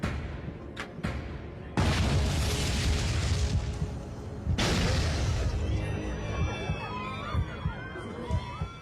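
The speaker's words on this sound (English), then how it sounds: "Two explosions rock the plane." Two sudden loud broadband blasts a few seconds apart aboard an airliner in flight, each followed by a sustained roar and rumble, with faint shouting and commotion afterward.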